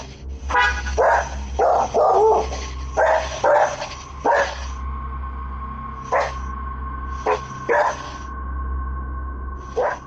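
Dogs bark in short bursts, several sharp woofs clustered early then spaced apart, over a steady low hum and a faint tone.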